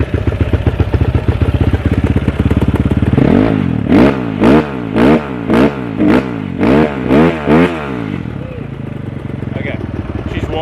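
Kawasaki KDX dirt bike engine running nearby, a loud steady two-stroke idle that gets a series of rhythmic throttle blips before settling back and being shut off.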